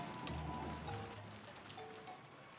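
Soft, steady rain with a light wind in the visual novel Umineko, a faint continuous hiss with low background music tones running under it.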